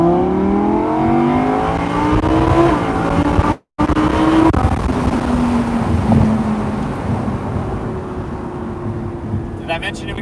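A 2020 Audi R8 V10 Performance Spyder in performance mode gives a loud, sustained engine note with rising and falling pitch sweeps as it accelerates, broken by a brief dropout, with wind rush throughout.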